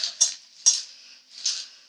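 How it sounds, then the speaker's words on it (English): Popcorn and sprinkles being stirred in a bowl, giving three bright scraping, rattling strokes at close range with short pauses between them. "we're just gonna stir again."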